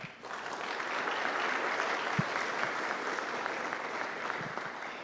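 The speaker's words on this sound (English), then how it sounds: "we'll give one more round of applause for everybody" Church congregation applauding together, a steady dense wash of clapping that holds evenly for the whole stretch without talk over it.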